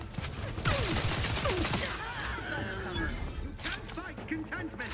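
Bursts of gunfire crackle in The Outer Worlds 2, with rapid repeated shots and sharp impacts, loud and close, while voices talk over the action.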